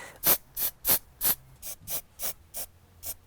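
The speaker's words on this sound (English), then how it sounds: "So it's quite the spray." Repeated short bursts of a spray bottle misting parasite treatment onto a chicken, about ten crisp hissing puffs in a steady rhythm, close and clear with no talk.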